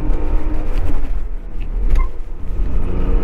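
A 2024 Tata Nexon facelift drives along, giving a steady, loud low rumble of engine and road noise inside the cabin, with no voices.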